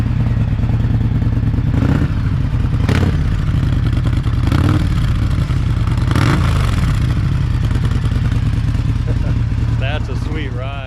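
A 750 Suzuki four-cylinder chopper motorcycle rumbles steadily nearby, with a loud low engine drone and a few sharp revs or clatters, while someone talks over it.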